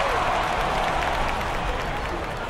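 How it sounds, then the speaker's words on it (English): Crowd in the Action PC Baseball video game applauds for a 1927 New York Yankees play in the Bronx, a dense, steady roar of clapping, loud and unbroken for the whole moment. "Yankee fans here in the Bronx applaud that effort by the 1927 New York Yankees"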